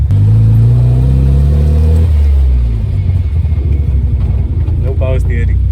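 A modified Nissan 1400 Champ bakkie engine revs hard with a deep, throaty rumble, then drops to a lower, rougher idle near the microphone.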